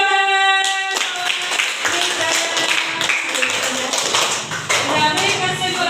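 A class of students claps along together in a classroom, rhythmic hand claps spread across several seconds with voices mixed in and a sustained musical tone at the start.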